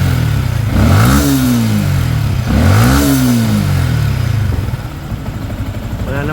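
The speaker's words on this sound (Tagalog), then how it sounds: "Ang motor mo, umandar." A Yamaha Sniper 155 motorcycle with a clogged oil passage, its engine revved twice in rising-and-falling swells, then settling to a steady idle close to the microphone.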